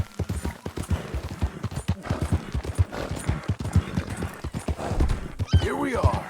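Horse galloping in the video game Red Dead Redemption 2, with rapid rhythmic hoofbeats close up and a whinny near the end, while someone talks over it.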